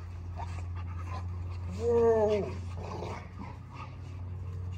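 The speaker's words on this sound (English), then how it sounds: "He's officially the biggest dog in my yard." A big dog pants and lets out a short, whining whimper close by in a yard, over a constant low hum, while a man exclaims briefly.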